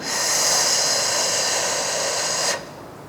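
A long, deep inhalation during a pelvic floor breathing exercise, a loud, close, airy rush of breath held steadily for over two seconds before cutting off abruptly.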